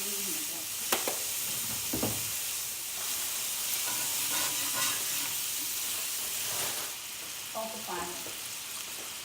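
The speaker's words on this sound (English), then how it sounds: "Our ham is frying up." Boiled ham fries in oil in a pot, giving off a steady hiss and sizzle with occasional sharper pops and stirring clatter near the start.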